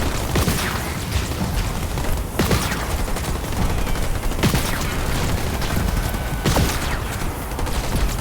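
Video game battle in Halo Wars 2 with ground troops under attack: dense, continuous gunfire and rumbling explosions, with sharp blasts standing out every couple of seconds and no speech.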